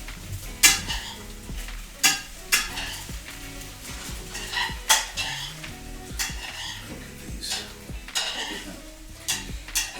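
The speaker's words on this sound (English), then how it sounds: "it all gets absorbed in the sauteing process" Pierogis sauté in butter in a pan, giving a steady close sizzle broken by repeated sharp clacks of a utensil stirring and scraping against the pan.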